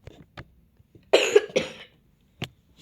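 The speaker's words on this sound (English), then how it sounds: "Stop coughing." A person coughing: a few small, sharp throat sounds, then two loud, harsh coughs close together, followed by quiet and one last short cough.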